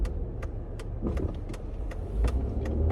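A car being driven, with a steady low road and engine rumble running throughout, a few faint clicks and light rattles on top, and no talking.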